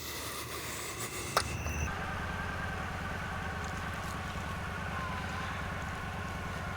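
Motorcycle engine running steadily on a night ride away from a cemetery, a low continuous drone with wind rush after a brief sharp clunk near the start.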